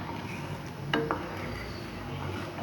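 Almond milk made from half a liter of milk is stirred in a pot, a low steady simmering background with two quick spoon clinks against the metal near the middle.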